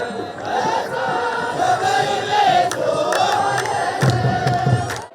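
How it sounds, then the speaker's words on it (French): A joyful crowd fills the streets of Addis Ababa during the Timkat celebration, with many voices shouting and calling together in a dense, continuous roar that stays loud throughout, with rising cheers. "C'est une foule joyeuse comme cela."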